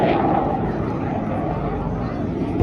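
Spitfire Mk 19 and P-51 warbirds fly past at an airshow, a steady loud engine roar sustained throughout with broad rumbling noise, no clear speech on top.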